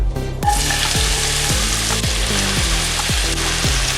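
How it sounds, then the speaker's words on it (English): Vegetables hit hot oil in a wok, giving a loud, continuous sizzle with rhythmic clanks and scrapes as they are tossed and stirred, close up and without any talking. "In the same wok, add oil and then vegetables."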